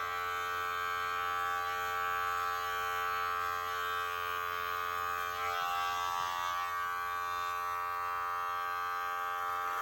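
Electric clippers trimming a beard, a steady close buzzing hum that holds level throughout with no talk.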